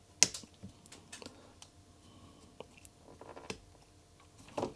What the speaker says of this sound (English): so I'm just gonna cut those off